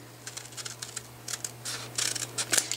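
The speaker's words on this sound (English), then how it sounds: "I'm just going to scoot across there and cut that shape right there" Scissors snip through a freezer paper template for a quilt in a quick series of soft, close crisp cuts over a low steady hum, with no talk.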